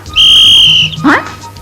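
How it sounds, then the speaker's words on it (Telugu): A person gives a single loud, close, sustained whistle lasting under a second, followed by a brief vocal sound. "పిల్లలతో గోళీలాటమే కాకుండా వాళ్ళ దగ్గర ఈలేయడం కూడా నేర్చుకున్నావా"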